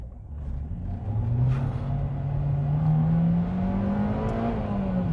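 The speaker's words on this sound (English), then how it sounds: "when you hit VTEC, well, firstly, you get more power, but it does get more noisy in here" A Honda Civic Type R (EP3) engine climbs steadily in pitch as the car accelerates, the tone growing harsher and louder near the top as VTEC engages before easing off.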